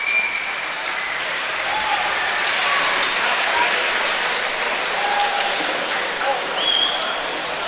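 Sustained applause from a crowd at the close of a 15-minute BTC 3 Prophecy bout between Ergys Sigeta and Smith Amisial, steady and dense throughout with scattered whistles and cheers on top.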